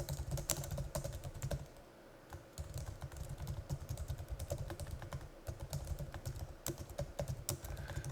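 Fingers tap steadily on a computer keyboard, a close run of quick clicks with a short pause near the middle, quiet and alone.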